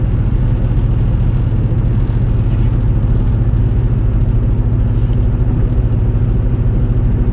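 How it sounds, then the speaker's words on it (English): A 2003 Hyundai Tiburon's engine drones steadily from inside the cabin while driving, a loud, even low rumble and whir that holds throughout with no talk. "Motor sounds good."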